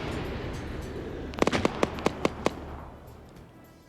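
Missile salvo fired from a VLS launcher in a military video game on a Russian island: a rapid string of about seven sharp, loud bursts over a second, then a fading rumble.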